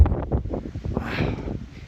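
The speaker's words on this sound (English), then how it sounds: "It is windy as hell" Strong wind buffets the microphone atop a 10,834-foot mountain peak on the Pacific Crest Trail, gusting loudly and continuously in low, uneven rumbles with a hissing roar swelling in the middle.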